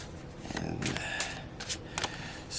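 Tarot cards riffle and slide against each other in a few soft, papery bursts of shuffling, close by and fairly quiet.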